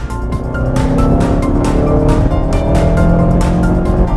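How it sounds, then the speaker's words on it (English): A 2016 Mazda 6 Grand Touring accelerates hard from a stop, its engine note and road noise building loud and steady throughout, heard from inside the car. "I'm going to go ahead and mash it. Here we go. Feeling good. Engine sounds great."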